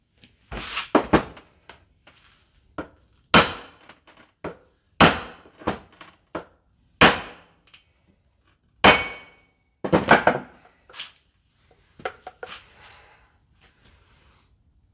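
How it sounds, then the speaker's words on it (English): A metal hammer strikes the U-joint clips on a 1965 Buick Riviera driveline, a dozen or so sharp, loud, close metallic blows spaced irregularly with short quiet gaps. "solidly with a metallic hammer here and here, here and here."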